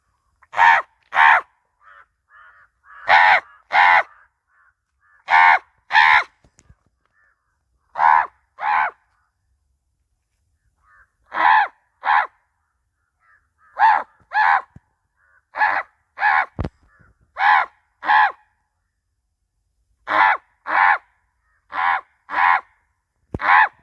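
A crow calls repeatedly outdoors, loud harsh caws coming in paired and triple bursts separated by short pauses, with no talking over them.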